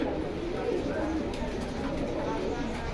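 Pigeons coo softly inside a pigeon loft, a low murmuring backdrop partly masked by nearby people talking.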